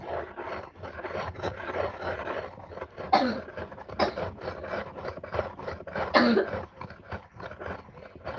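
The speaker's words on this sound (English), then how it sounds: "This is going to need a lot of sharpening." A blade edge is sharpened with repeated rasping, filing strokes in an uneven rhythm, close and gritty, with a cough or throat clearing between strokes.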